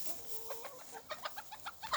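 Domestic chickens cluck close by, a drawn-out call followed by a quick series of short, clear clucks, alone with no talk.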